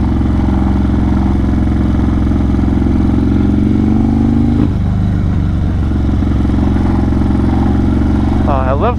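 A loud motorcycle fitted with Thunderheader exhaust rumbles steadily while riding, a deep continuous drone that shifts pitch briefly midway as the throttle changes, close and dominant throughout.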